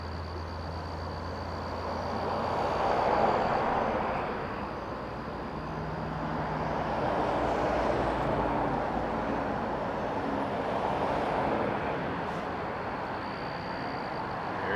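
Heavy German cargo jet landing on runway 6R at Toronto Pearson Airport, a broad steady roar of engines that builds and swells across the whole stretch, moderately loud from a distance with no talking.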